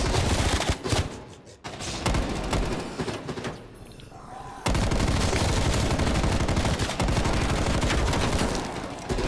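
Light machine gun fire in a video game rattles out in dense, loud bursts, with a brief lull midway before the sustained firing resumes.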